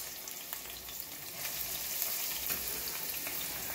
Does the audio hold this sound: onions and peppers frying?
yes